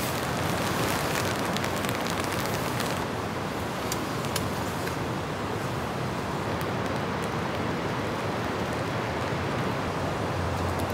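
Heavy rain pours steadily onto a camping tent tarp during a rainstorm, a dense, constant hiss that stays loud and even throughout with scattered sharper drop hits, and no voices.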